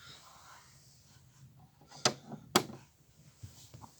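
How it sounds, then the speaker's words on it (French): A toy-scene house door is pushed shut, giving two sharp knocking bangs about half a second apart, close and moderately loud over soft background noise. "Il faut à tout prix que je ferme la porte"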